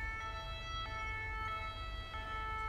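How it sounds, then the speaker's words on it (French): Fire engine siren in the video game GTA 5 in a snowy setting, a steady tonal wail held at moderate distance with faint periodic clicks beneath it. "Les pompiers arrivent."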